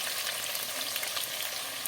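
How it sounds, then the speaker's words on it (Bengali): Potato pieces fry lightly in hot oil in a pan, making a steady, close, bright sizzle with faint crackles and no voices. "নেড়ে ছেড়ে দিলাম ভালো করে আলুগুলো একটু হালকা ভেজে নেব"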